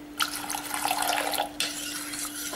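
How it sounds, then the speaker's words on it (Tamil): Water pours in a steady stream into a pot of pearl millet porridge being mixed in a home kitchen, a splashy running flow that briefly falters and then continues close by, with no talking. "இன்னும் 1/2 கப் ஊற்றுறேன்."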